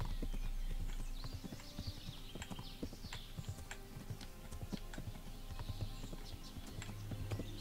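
Horse hooves clip-clopping at a steady walking rhythm in the video game Kingdom Come Deliverance, close and moderately loud over a faint outdoor ambience, with no talk.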